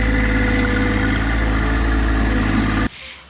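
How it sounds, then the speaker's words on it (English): A tractor engine runs loud and close while ground is prepared for laying playground tiles, a steady dense drone with low vibration that cuts off abruptly near the end. "We are very fortunate to have a tractor that was able to do this work."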